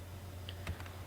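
A few quiet keystrokes on a computer keyboard, two or three soft clicks in about a second, close by with no talking.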